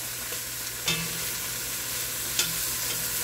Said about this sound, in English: I'm continuing to stir them on every side